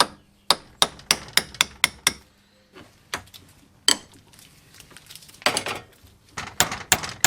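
Hammer tapping back the lock washers on a Classic Mini crown wheel, a series of sharp, close metallic taps in quick bursts separated by brief pauses.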